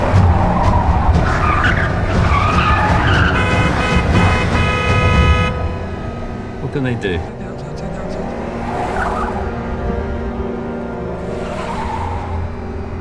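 Cars in a slow car chase, engines running loud with tire squeals and horn toots, then a quieter stretch of idling traffic, while people talk over the noise.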